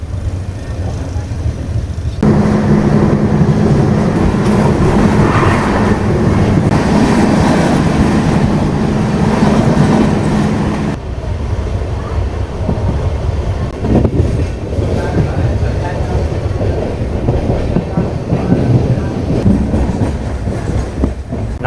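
Passenger train pulling into Sattur railway station in light rain, heard from inside a carriage: loud continuous rumble and clattering wheels, with a steady drone that drops away partway through as the ride grows rougher and noisier.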